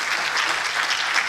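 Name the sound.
applause for law students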